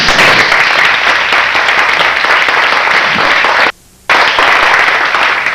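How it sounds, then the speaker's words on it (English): Loud, sustained audience applause for volunteer helpers at a presentation, dense crackling claps that cut out abruptly for a split second before resuming at full strength. "So maybe we could have a round of applause for those folks"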